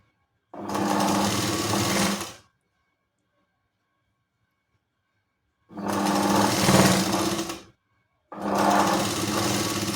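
Sewing machine running in three loud, steady bursts of about two seconds each, separated by silence, while double-stitching a katori blouse.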